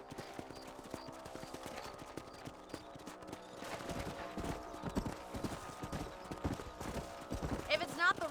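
Horse hooves clip-clop at a steady walking rhythm in the Western video game Red Dead Redemption, with several animals sounding close together. Faint voices and game sounds are heard underneath.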